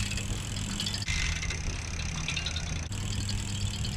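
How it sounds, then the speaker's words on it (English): Shoelace caught in the spokes of a bicycle used for hang-five peg tricks, giving a rapid continuous ticking and fluttering clatter over rolling tire noise, with two short breaks in the rhythm. "Got a shoelace in the spokes, you hear it."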